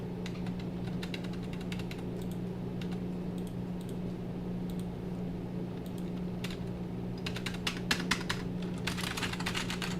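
Typing on a computer keyboard, with quick clattering keystrokes in uneven bursts that get denser and louder near the end, over a steady low hum and no talk.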